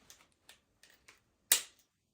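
Wire is snipped while a rustic Christmas wreath with berried ivy is assembled: a few faint, light clicks, then one sharp, close snip, alone in a quiet room.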